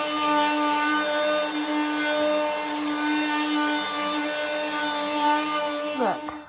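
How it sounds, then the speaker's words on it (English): An electric sander whines steadily and close as it sands wood filler off the fronts of doors, a loud tonal buzz held for several seconds before it winds down at the end. "I'm just here with the sander. I'm just sanding off the wood filler from yesterday"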